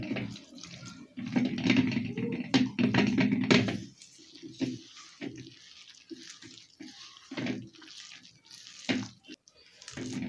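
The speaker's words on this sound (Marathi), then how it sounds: "इथे पाणी घालून बॅटर तयार करायचं आहे" Water trickles and splashes into a bowl while a spoon knocks and stirs thick batter, with short bursts of mixing scattered through the clip.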